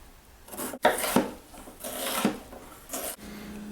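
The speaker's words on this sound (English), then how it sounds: "So I'm just going to dice these." Beets being diced with a knife on a wooden board, several rasping, scraping strokes in uneven succession, fairly close and moderately loud.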